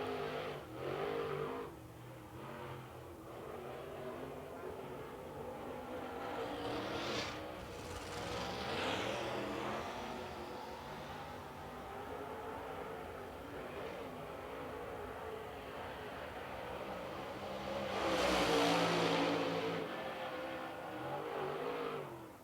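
A super late model race car engine at Lancaster Motor Speedway during qualifying: a loud, sustained roar that rises and falls as the car accelerates through the turns, with a sharp surge near the end as it passes close by.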